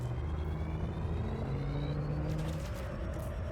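Spaceship afterburners boost in the Elite Dangerous video game as a continuous low rumbling thrust, with a rising tone and a brighter surge near the end.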